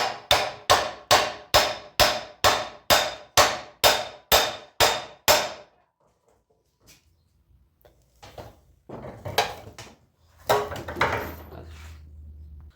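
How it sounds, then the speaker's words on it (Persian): A hammer taps a motorcycle steering bearing in a fast run of about a dozen sharp, evenly spaced metallic blows, then a pause, then scattered softer knocks and clatter close by. "با چکش آروم میکنیم."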